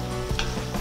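Pork tongue adobo bubbles and sizzles steadily in a pan, a close, continuous frying hiss with faint stirring clicks and no talk.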